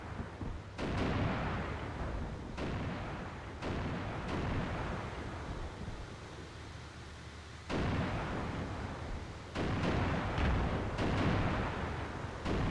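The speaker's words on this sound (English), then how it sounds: "I'm going to up our volleys on our artillery and drop some more" Artillery fire from the Armored Brigade 2 war game booms in repeated heavy bursts, each blast followed by a long rumbling decay, the volleys spaced irregularly and sounding fairly distant.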